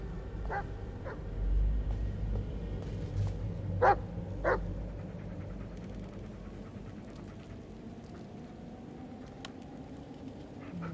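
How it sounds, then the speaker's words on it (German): A dog in the Blair Witch video game gives a few short, sharp barks, spaced apart, over a low rumbling ambient background. "Noch ein Hund oder was?"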